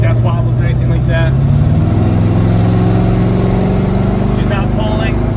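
A 1981 Chevrolet Corvette engine drones steadily while driving, its low, even tone rising slightly as the car moves along, loud and continuous throughout, with faint voices in the cabin.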